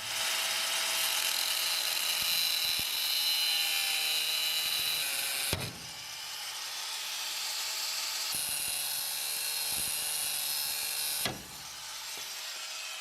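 Steel U-bolts on an S10 pickup truck being cut with a high-pitched power tool, a loud continuous grinding whine in two long passes with a brief break between them, no talking.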